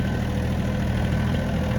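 An Iseki TA 235 tractor engine runs steadily while driving on a cultivation outing, giving a close, continuous low drone with an even rumble throughout and no talking.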